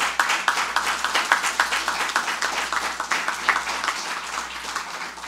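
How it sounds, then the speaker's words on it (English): Audience applause at a signing ceremony for Disney Cruise Line and Norwegian Cruise Line berthing agreements: a moderate, steady round of clapping with distinct individual claps, heard alone and somewhat distant. "Please give him a round of applause."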